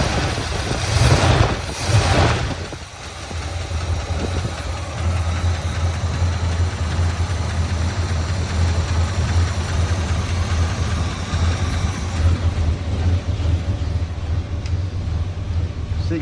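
A 1979 Chevy Scottsdale pickup's engine, just started on starter fluid, settles into a steady low rumbling idle that runs continuously and close by, after a brief louder surge at the start, with no voices over it.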